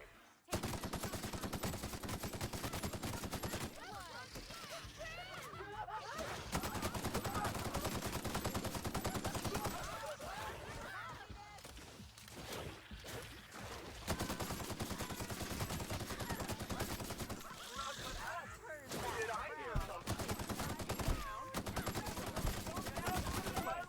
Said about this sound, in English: This gun is actually fucking them up.